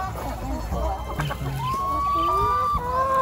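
Backyard chickens fed on marigold flowers cluck and squawk close by in a steady, busy stream, with someone talking briefly over the birds.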